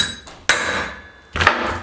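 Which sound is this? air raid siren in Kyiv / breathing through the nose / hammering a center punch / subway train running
hammering a center punch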